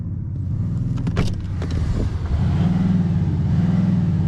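A 2019 Audi S6 3.0 TDI diesel engine rumbles steadily close by, with a low droning idle that swells briefly into a revving surge and then settles into a sustained deep hum.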